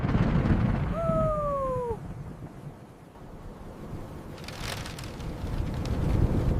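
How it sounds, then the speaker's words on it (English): Strong gusting wind outdoors ahead of a rainstorm, a steady low roar that dips briefly in the middle and then swells back, with a short two-tone whistle-like sound early on. "The wind is too strong now."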